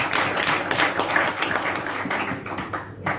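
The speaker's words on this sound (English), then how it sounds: "Let's give him another round of applause." An audience applauds at a youth peace and tolerance event in Zimbabwe, a dense, continuous patter of many hands clapping close by for a few seconds before it thins out.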